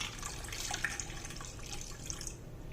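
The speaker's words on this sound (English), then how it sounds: "I'm going to take my iced water and I'm going to pour it in minus the ice cubes." Iced water trickles and splashes in a thin, faint stream as it is poured a little at a time into a bowl of whipped butter, a soft steady close-up pour.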